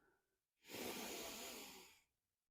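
A single deep inhale during a yoga session, a close, breathy rushing draw of air lasting about a second and a half, framed by brief silence before and after.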